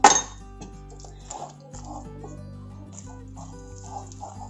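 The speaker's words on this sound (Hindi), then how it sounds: "अब हमें ये जो आइस क्यूब बचे हैं इन्हें निकाल लेंगे" Leftover ice cubes clink against a bowl as they are lifted out after whisking, starting with one sharp knock and then continuing as light, scattered clinks and small splashes, close and fairly quiet.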